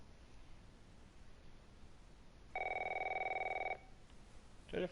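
Telephone rings in The Last of Us video game: one sustained electronic ring of about a second, clear and fairly loud over a quiet hissy background, followed by a brief rustle.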